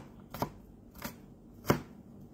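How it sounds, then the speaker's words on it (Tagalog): A knife chops garlic on a board in three distinct, close thuds spaced unevenly over a couple of seconds, with a faint background hum. "naghihiwa po ako ng bawang"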